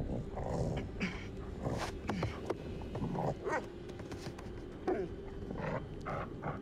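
A dog in the horror video game The Devil in Me gives a run of short barks, yips and whimpers, fairly faint and broken up by game noise and scattered clicks.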